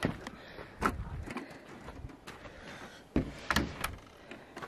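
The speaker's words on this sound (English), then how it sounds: "there we go opening the door" Door being opened outdoors on a mountain trip, heard as a few scattered knocks and clunks in quiet surroundings.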